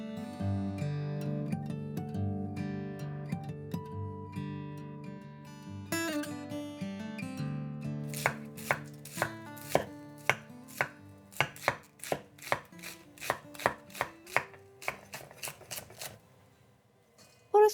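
A knife cuts cabbage into wide strips for coleslaw. After softer tonal sounds at the start, a run of about a dozen crisp, evenly spaced chops hits the cutting board close up.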